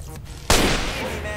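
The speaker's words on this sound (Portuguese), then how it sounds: "Temos também aqui um novo rifle, que é o Cut Gun, aquele primeiro rifle básico" A loud single rifle report from the basic Cut Gun rifle in GTA San Andreas, part of a Counter-Strike weapon pack, a sharp blast that decays into a ringing tail.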